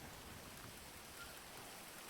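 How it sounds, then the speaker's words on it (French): Soft, steady video game rain hisses evenly with no breaks, faint and distant, with no voices. "Il pleut."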